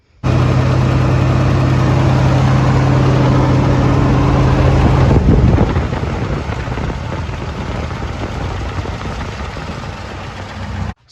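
Car engine running steadily at idle after an ignition module swap, a loud, continuous low rumble close by that drops a little in level midway and keeps going until it cuts off.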